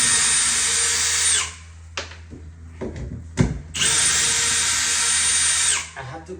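A power drill removes screws during plumbing work: two loud, sustained whirring runs, close by, separated by a pause filled with clunks and handling knocks.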